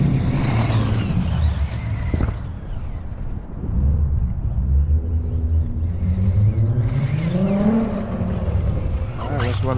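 Losi 8ight-E electric RC buggy running on a 6S battery, its motor whining and rising in pitch as it speeds past, with rumbling tire noise and a voice talking over parts of it.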